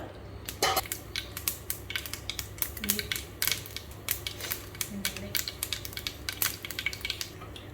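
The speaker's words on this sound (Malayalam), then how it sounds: "കടുക് പൊട്ടി." Mustard seeds spluttering in hot coconut oil, rapid irregular pops and crackles over a low sizzle, close and fairly loud, with no speech.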